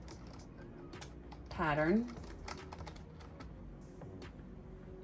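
Typing a file name on a PC computer keyboard, with steady light key clicks running throughout and a brief spoken word partway through.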